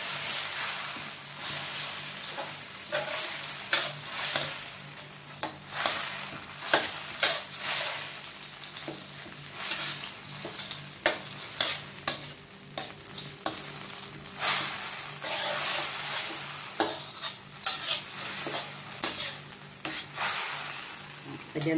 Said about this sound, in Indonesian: Ini kita goreng sampai matang, sampai harum baunya.